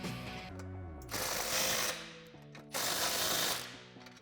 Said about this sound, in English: we're going to go ahead and tighten our 2 clamps on the driver's side down with the same 15mm deep